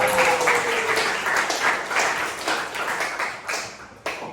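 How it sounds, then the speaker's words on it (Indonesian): High-school students applaud in a classroom at SMAN 3 Samarinda, with loud, continuous clapping that stays close and even before ending with a final sharp clap. "Tepuk tangan untuk kalian semua."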